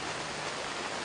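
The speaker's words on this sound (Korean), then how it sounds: "갑자기 또 굵은 비가 내리기 시작하고" Heavy rain pours down in a dense, steady roar of broadband hiss, continuous and loud throughout, with no voices or other distinct sounds.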